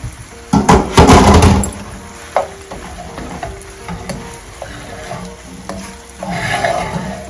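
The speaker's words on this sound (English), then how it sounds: "And now I am adding pasta." Pasta tipped into a pan of creamy seafood sauce over lowered heat, with a loud burst of sizzling and stirring up front, then quieter scraping, clinks and bubbling, rising again near the end.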